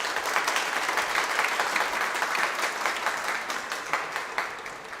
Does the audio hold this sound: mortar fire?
no